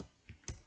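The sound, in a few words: typing on a computer keyboard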